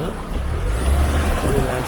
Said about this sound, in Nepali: गाडीहरू बाटोमा हिँडिरहेको